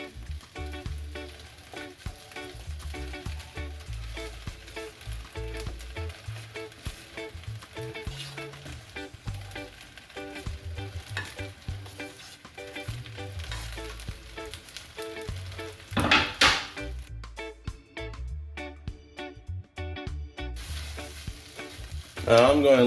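Kielbasa fries with egg-fried rice in a pan, giving a continuous crackling sizzle broken by repeated stirring scrapes and clatters, close up and with no voices.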